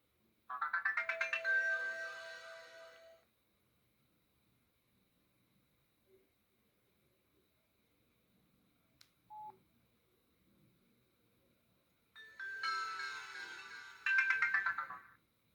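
A short electronic jingle plays, a long quiet stretch with a couple of faint clicks follows, then a second melodic tone sequence sounds near and clear.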